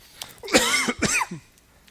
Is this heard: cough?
yes